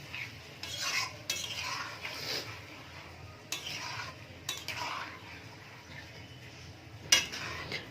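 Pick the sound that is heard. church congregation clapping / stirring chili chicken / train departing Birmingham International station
stirring chili chicken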